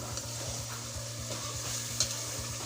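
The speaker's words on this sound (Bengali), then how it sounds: "এখন খুব সুন্দর করে এটাকে কষিয়ে নিতে" Chicken korma made with broiler chicken is sautéed and stirred in a pan, giving a steady close sizzle with repeated scraping strokes of a spoon and one sharp clink near the end.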